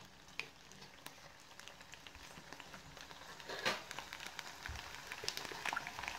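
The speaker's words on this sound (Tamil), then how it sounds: "சூப்பராக பொரியுது பாருங்கள்" Onion and rice vadam crisps deep-fry in hot oil with a soft, steady sizzle and scattered crackling pops, quiet and close.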